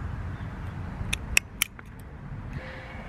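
Pruning shears snipping the tip off a currant stem above a bud in a garden: a few crisp, quick clicks bunched together in the middle, fairly close, over a low outdoor rumble.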